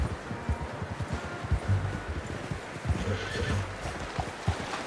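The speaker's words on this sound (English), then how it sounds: "How's that new horse?" A horse in Red Dead Redemption 2 whinnies twice in clear, drawn-out neighs, with soft hoof clip-clop and rustling underneath and no talking.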